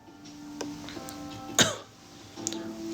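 A person with a cold and phlegmy throat gives a sudden single sharp cough amid quiet room tone, with faint throat noises around it.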